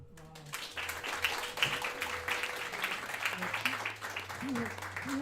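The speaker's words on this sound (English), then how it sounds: "give Angela a wonderful round of applause" An audience at a jazz event claps in a scattered round of applause beneath a speaker's voice, with a few tonal instrument notes underneath.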